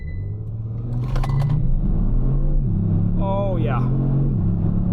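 A Kia Stinger GT fitted with a BMS TCU accelerates hard, its engine droning and rising in pitch through quick upshifts, recorded from inside the cabin while a voice exclaims over it.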